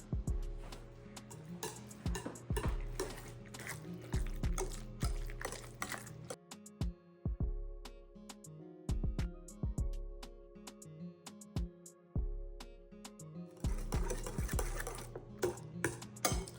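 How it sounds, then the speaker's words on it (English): Eggs for sweet potato pancakes are whisked in a bowl: a quick, rhythmic run of close, ringing clinks of utensil on the bowl, with a short pause midway before the beating resumes. "To add our eggs. Now mix."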